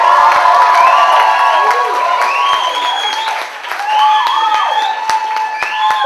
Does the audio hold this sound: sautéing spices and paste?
no